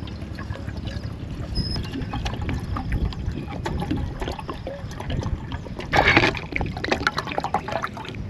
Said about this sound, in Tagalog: Ang dami kong linagay na tubig